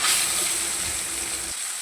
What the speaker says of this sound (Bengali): আর এখন আমি এক এক করে মাছগুলোকে তেলের মধ্যে ছেড়ে দেবো।